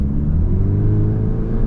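A 2026 Volkswagen Golf R pushed hard through a turn, its engine a steady, loud low rumble with a gently rising tone as it powers out of the bend.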